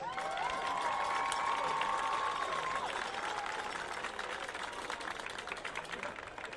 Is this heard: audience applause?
yes